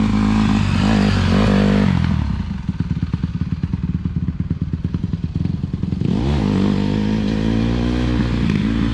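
A Honda CRF150 dirt bike rides over rocks, its engine roaring loud and close, then dropping to a rapid chugging beat with rattles and knocks from the rough ground before revving hard again.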